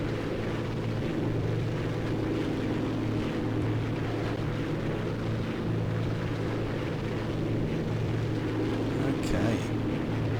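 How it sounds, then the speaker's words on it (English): Spitfire flying in formation with bombers in X-Plane 11, a steady deep engine drone with wind rush, constant and loud throughout, with faint talk underneath. "Flying in formation with some bombers."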